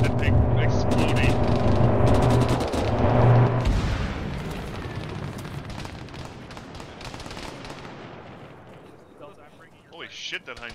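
A tank blowing up in the Arma video game, a loud deep blast followed by a long rumbling decay that fades over several seconds, with a voice coming in at the end.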